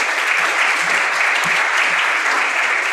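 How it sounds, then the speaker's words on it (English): Audience applause at a forum session on incorporating Earth observation into policy, a steady, dense wash of many hands clapping close and loud throughout, with no voices over it. "a big round of applause for all those that contributed"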